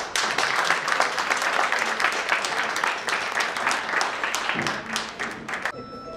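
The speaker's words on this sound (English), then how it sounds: "Let us give a big round of applause for Rakesh." At a school reunion, an audience applauds for Rakesh, a dense patter of many hands that stays strong, then thins and trails off toward the end with a few scattered claps.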